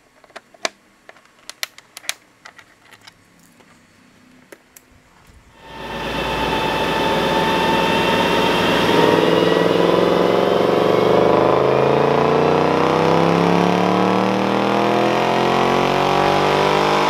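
A 2024 Mustang Dark Horse V8 on a dyno with factory intake filters, quiet at first, then a sudden loud engine roar at about six seconds that climbs steadily in pitch and holds at full throttle to the end.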